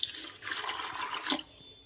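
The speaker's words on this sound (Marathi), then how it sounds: "आता यामध्ये थोडंसं दुसरं पाणी टाकून घ्यायचं" Fresh water splashes into a pot of drained cooked pulses for a festival offering, a short burst of pouring that swells, dips and rises again before tapering off, close and alone with no talk.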